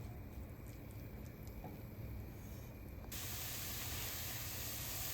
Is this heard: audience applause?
no